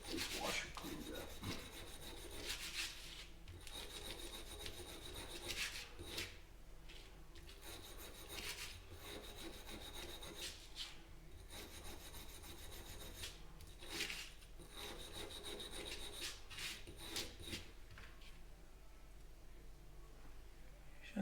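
A steel vise washer being rubbed clean by hand, with repeated rasping scrubbing strokes in a steady back-and-forth rhythm, close and fairly quiet, continuing for a long stretch without talking.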